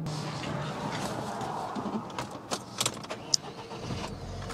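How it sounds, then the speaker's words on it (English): A 2006 Saab 9-3 engine cranks and catches over a noisy background, with a few sharp clicks and knocks near the end as it turns over. "All right, and the engine's turning on."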